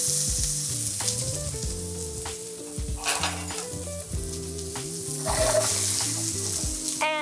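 Onions and red peppers frying in hot oil in a pan, a loud close sizzle under steady background music, with a few brief scraping stirs.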